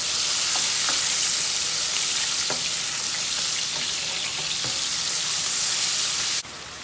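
Tomatoes fry in a pan with a loud, steady sizzle and crackle throughout, a few small pops over the hiss, and no voices.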